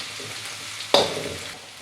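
Ingredients for Indonesian-style fried rice sauté gently on low heat in a pan, giving a soft, even hiss broken once by a single short scrape of a spoon, close and quiet.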